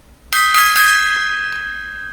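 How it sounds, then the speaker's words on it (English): A struck gong rings out with a sharp attack, then a sustained metallic tone with bright overtones that slowly decays over about two seconds, heard alone with no talk. "Gong time."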